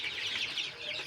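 Farm chickens on a poultry farm cluck in a continuous, busy chorus, close by and fairly loud, with overlapping calls and no pauses.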